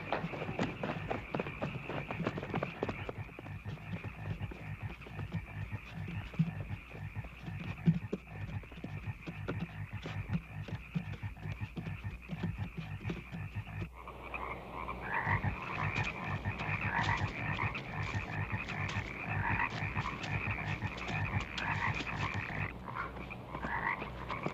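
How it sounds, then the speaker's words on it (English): Many frogs croak in a dense, steady rhythmic chorus near a dock, with the pattern shifting about midway, loud and continuous throughout. "watch out for the frogs"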